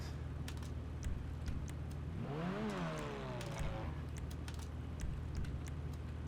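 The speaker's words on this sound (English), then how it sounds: "Very farty engine noise." A Turismo Omaggio's engine in GTA gives a brief revving sweep that rises and falls for a couple of seconds, moderately loud over a quiet background with faint clicks.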